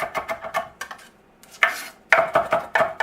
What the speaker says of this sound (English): That's how you chop up your garlic.